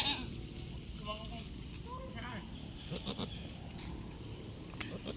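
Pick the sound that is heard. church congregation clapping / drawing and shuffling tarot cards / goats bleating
goats bleating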